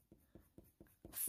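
Four or five short scratchy strokes of a grey colored pencil used as a blender on paper, drawing dog fur, at a steady rhythm, close and soft, ending in a brighter rustling sweep.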